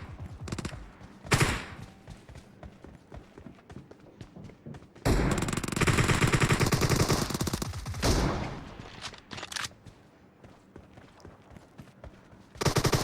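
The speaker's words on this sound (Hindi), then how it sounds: "वो गन की आवाज़ चलती रहती है" Rapid gunfire in a shooter video game team deathmatch: scattered shots and thuds, then a dense sustained burst of firing for a few seconds, followed by more sporadic shots.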